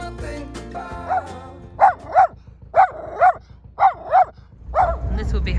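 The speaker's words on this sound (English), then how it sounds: "Barking at herons." A dog barks repeatedly at herons beside a canal, about six loud, evenly spaced barks that stand out clearly over a steady low background hum.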